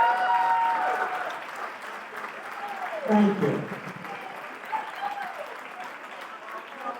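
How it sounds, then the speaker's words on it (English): An audience at a community center founders celebration applauds as elected officials stand. Full, close clapping swells and then settles, and a voice briefly speaks over it partway through. "All the elected officials, please stand, and let's give them a round of applause."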